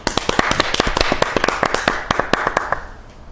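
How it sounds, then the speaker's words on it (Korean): An audience claps in quick, sharp bursts, a lively round of applause that tapers off toward the end. "박수 한번 주시죠"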